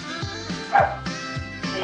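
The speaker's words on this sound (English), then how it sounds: "Is that dog on the record?" A dog barks on a music recording, a series of short yipping woofs in a steady rhythm, loud and close, with no talk over them.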